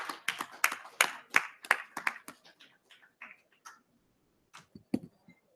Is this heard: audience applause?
yes